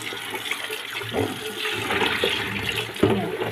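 Tap water runs and splashes while fish is washed, a continuous close gush with a few small knocks and shifts in the flow, and nobody speaks.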